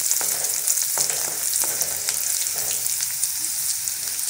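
Chopped ginger, garlic and green chillies sizzle and crackle in a hot pan for malai methi matar, a dense, continuous close frying hiss broken by a few stirring scrapes.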